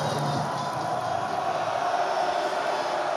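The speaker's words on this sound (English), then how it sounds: "Crowd baying for blood." A rugby crowd at Bath v Harlequins roars and bays in a continuous, dense wash of massed voices, steady and fairly loud with no single voice standing out.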